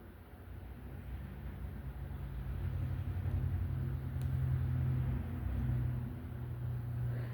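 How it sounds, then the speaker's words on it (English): Heavy traffic passes along a road outside, a steady low rumble of trucks that swells and stays loud through the middle, with no talking. "All the noisy trucks want to go by and the sirens and everything."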